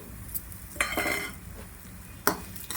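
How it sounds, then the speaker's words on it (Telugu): Urad dal fried in hot oil in a village-style kitchen: a soft, constant hiss with a few sharp spoon scrapes and clinks as it is stirred; no one talks. "ఆయిల్ హీట్ అయ్యింది. ఈ మినపప్పుని వేసి ఫ్రై చేసుకోవాలండి."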